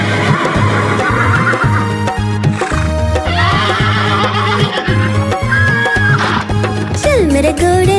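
A horse whinnies loudly near the end over steady clip-clop hoofbeats, all set inside a driving, beat-heavy Hindi song with musical instruments.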